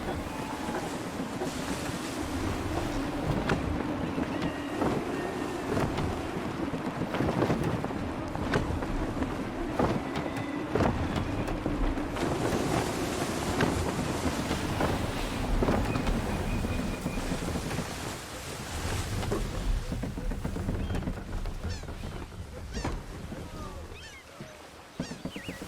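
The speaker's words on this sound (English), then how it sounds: "Gusty winds can be difficult to manage" Gusty wind and the creak and rush of a sailing ship at sea in the video game Assassin's Creed III: a loud, continuous roar of wind and water that holds steady throughout, with no clear pauses.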